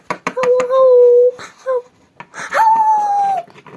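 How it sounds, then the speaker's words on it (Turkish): A dog whimpers and lets out long, wavering howls, with short yips in between and a quiet pause in the middle. "Aa ne kadar tatlı bir köpek."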